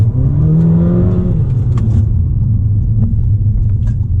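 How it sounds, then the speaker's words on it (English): A 2-litre four-cylinder Golf R engine, tuned to about 400 bhp, revs up sharply, then drops back to a deep, steady rumbling idle, loud and close, with a few light clicks on top. "I think it sounds quite good for a 2-litre as well. 4-cylinder engine, sounds great."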